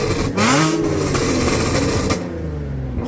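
Audi A6 3.0T running an ECS Tuning X-pipe exhaust revs up hard at close range, a loud burst climbing in pitch that holds for a moment, then eases back down to a deep, rumbling idle.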